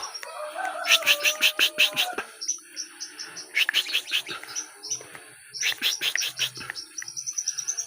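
Bursts of rapid, high-pitched bird chirps repeat in clusters over a background of insect buzzing, fairly close and lively.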